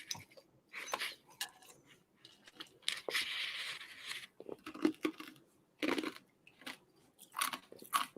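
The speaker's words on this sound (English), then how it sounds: "Sorry if you can hear me crunching on my ice." Someone chews and crunches ice close to the mouth, with irregular bursts of brittle cracking and grinding separated by short pauses, and no other sound.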